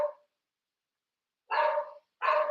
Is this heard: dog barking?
yes